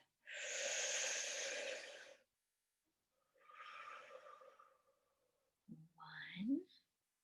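A deep breath during a children's breathing exercise: a long, close inhale-and-exhale whoosh, a second softer breath a moment later, then a brief voiced sound at the end.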